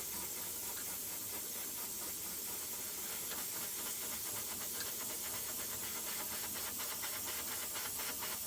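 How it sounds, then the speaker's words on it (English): Steady hiss of air blown onto a dyed maple burl workpiece during a two-tone sunburst finish, a continuous close blast lasting several seconds with no talk. "Blow some air on it."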